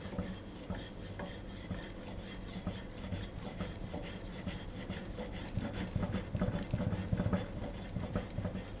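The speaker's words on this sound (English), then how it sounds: "You can see where you're rubbing, so you need to get that so it takes that back lip off" Chisel back rubbed flat on a sharpening stone, a steady rhythmic rasping scrape in quick even strokes, close and continuous with no talk.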